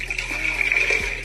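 Cold water pours steadily into a blender as the first step of a homemade Kool-Aid slushie. The stream makes a continuous, fairly loud splashing hiss with no voices.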